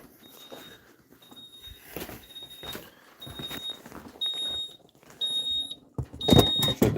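A kitchen timer buzzer beeps in a repeated series of short, steady high-pitched tones during cooking, with clatter and handling sounds in between and louder knocking near the end.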